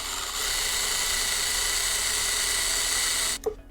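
A small drill bit grinds steadily into a thruster part of a Boba Fett jet pack build, a continuous high whine held at slow speed for over three seconds before cutting off abruptly.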